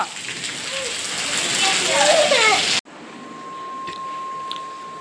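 Heavy rain falls over a village at dusk, a loud steady wash for nearly three seconds before an abrupt cut to a much quieter scene with a thin steady tone and a few soft taps.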